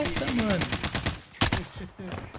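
Rapid automatic gunfire from Call of Duty Warzone rattles in fast bursts, with a sharp louder shot near the middle, while someone talks excitedly over it.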